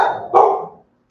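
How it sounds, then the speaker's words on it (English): Dogs bark indoors, two close, loud barks in quick succession, the second stronger and trailing off into silence. "I don't know what they're barking at, to be honest."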